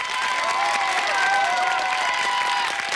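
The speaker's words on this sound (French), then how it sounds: "on peut applaudir plus fort quand même" A French TV studio audience keeps clapping in a thick, even roar of hands, with scattered cheers and whistles sliding above it throughout.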